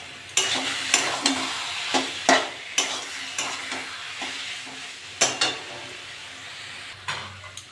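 Taro leaves (kochu shak) being stirred and fried in a pan, with a steady sizzle broken by a series of sharp spatula scrapes and knocks at irregular intervals, close and fairly quiet.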